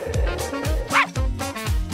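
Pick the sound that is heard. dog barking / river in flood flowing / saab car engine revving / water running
dog barking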